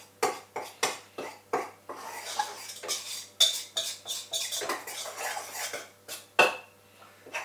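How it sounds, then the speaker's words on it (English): A spatula scrapes lard off a mixer beater and around the sides of a bowl, with repeated knocking and scraping strokes in an uneven rhythm, close and distinct, no voices. "I'm just going to scrape the lard off the beater, scrape it off the sides of the bowl."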